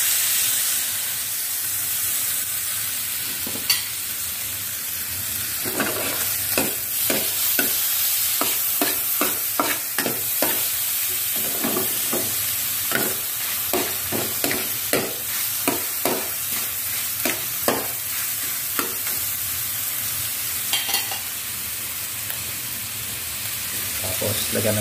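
Ground pork for spaghetti fries in a pan, giving a steady sizzle and hiss overlaid with repeated scraping stirs from a spatula, close and moderately loud, with no talk.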